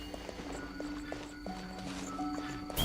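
Horse hooves clip-clop at a steady trot in Genshin Impact, light rhythmic steps under a soft game music tone, no talking.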